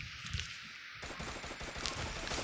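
Rapid gunfire bursts from a shooting video game, with repeated shots across the clip and a louder, denser stretch partway through; no one speaks.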